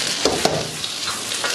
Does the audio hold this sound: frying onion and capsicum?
yes